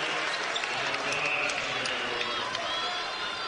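Basketball arena crowd at Marquette at Seton Hall reacting to a foul call, a dense, sustained roar of voices and cheering that stays loud and unbroken, with faint voices mixed into the din.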